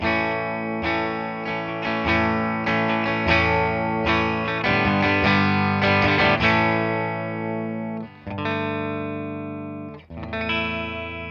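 A distorted electric guitar plays a run of chords and notes through a Boss ME-90 effects pedal and a Fender Twin Reverb amp, loud and sustained with a buzzing, processed tone.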